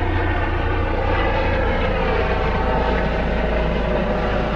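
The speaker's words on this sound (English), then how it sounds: "That's a helicopter." A helicopter flying overhead gives a steady, loud, continuous engine and rotor drone that fills the whole stretch without breaks.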